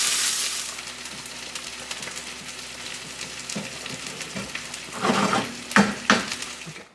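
Halibut frying in a pan over very low heat, a close continuous sizzle with louder bursts of spattering and a few clinks of a utensil against the pan toward the end.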